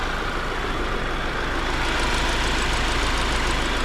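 Subaru Crosstrek engine idling after an oil change, a steady, even rumble heard up close with no voices.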